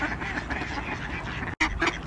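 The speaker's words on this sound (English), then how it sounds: "Bit for the ducks, bit for Myles" Ducks being fed quack over a busy, noisy outdoor background, with a brief sharp quack cluster near the end after a momentary dropout.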